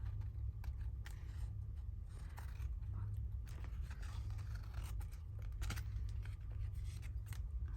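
Scissors cutting through paper for a medieval botanical illumination craft project, a steady run of soft snipping and scraping strokes heard close up against a low background hum, with no talking.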